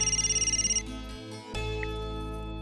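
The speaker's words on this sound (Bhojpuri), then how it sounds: "देखा फोन आ गई" A phone ringtone plays a quick pulsing trill of repeated electronic beeps, then shifts into a sustained tonal melody after a short break, fairly clear and close with no voices.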